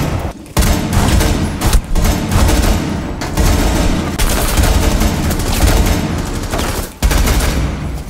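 Suppressed sniper rifle fire from Glaz in Rainbow Six Siege, a dense, loud run of sharp shots with brief gaps, heard near and without talking.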